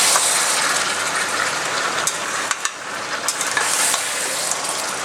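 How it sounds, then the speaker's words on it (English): Mutton pieces sauté with sliced onions, ginger and garlic in a pan, a steady loud sizzle and fry with occasional stirring scrapes, no talking. "Lower the heat and saute this mutton pieces with sliced onions, ginger, garlic"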